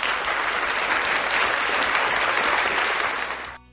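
A canned applause sound effect on a livestream plays as a dense burst of clapping that holds steady for about three seconds, then fades out quickly.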